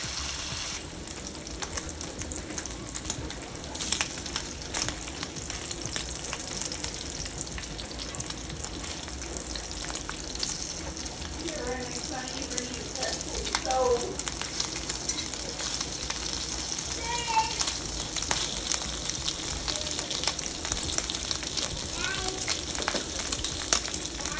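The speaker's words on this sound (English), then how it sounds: "once we get this bacon cooked" Hickory smoked bacon fries in a pan with a steady, dense sizzle and crackle that runs throughout, with a few faint clinks and scrapes partway through.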